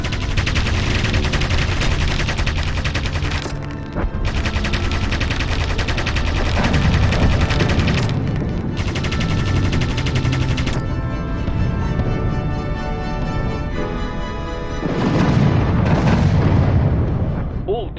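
In the Aviators game, rapid sustained gunfire from an aircraft at anti-aircraft guns rattles continuously in loud bursts, with brief pauses, booming impacts and a large explosion swelling near the end, while voices talk over the combat.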